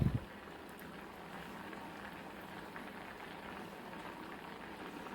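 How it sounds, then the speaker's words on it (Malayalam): A pot of potato olan curry in coconut milk bubbles and simmers steadily at low volume, a soft continuous gurgle of boiling liquid with no talking. "തേങ്ങാപ്പാലിൽ കിടന്നൊന്ന് നല്ലപോലെ തിളയ്ക്കുന്നുണ്ട്"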